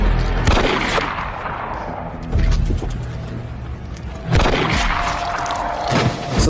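Gunshots in a crime thriller film scene where a sheriff is killed: several loud booming shots with echoing tails, spaced a couple of seconds apart amid a noisy background.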